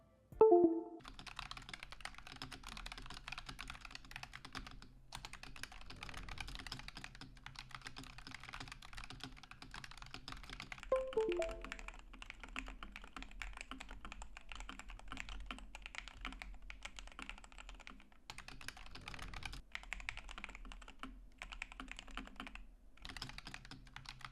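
A Drunkdeer A75 keyboard is played during gaming, its keys giving a dense, steady run of quick clicks and taps close to the ear, broken by a few brief pauses, with no talking.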